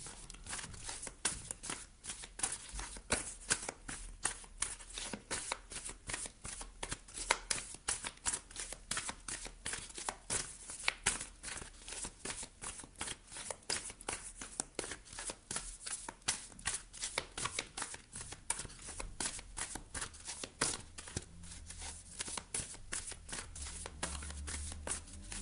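Oracle cards are shuffled for a reading. A long run of fast, crisp riffling flutters continues without a break, close and quiet, with no speech.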